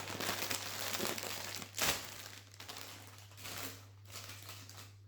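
Crinkly plastic bag of mushroom-flavoured potato chips being torn open, a steady close rustle and crumple over several seconds with one sharper crackle partway through.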